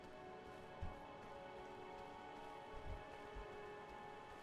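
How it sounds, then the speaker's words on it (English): Rain falls in the video game Oxenfree 2, a steady soft hiss of drops on surfaces, with a few dull low thumps and no talking. "Alright, so we got the rain."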